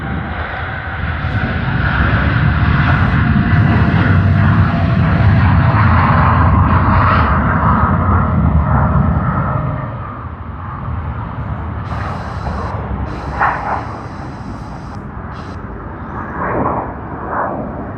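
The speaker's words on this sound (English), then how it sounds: "That is United Dream livery has begun its takeoff roll" An airliner in United Dream special livery on its takeoff roll at Sydney Airport, a loud, heavy jet engine roar that builds and holds for several seconds, then fades into distant rumble with faint background noise.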